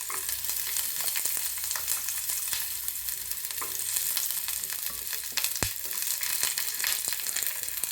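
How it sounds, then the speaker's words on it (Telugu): Chopped onion and green chillies sizzle steadily in hot oil in a pan, a continuous bright crackle with occasional ladle scrapes and clicks, no voices. "ఆనియన్స్ కాస్త ఫ్రై అవుతున్నాయి చూడండి."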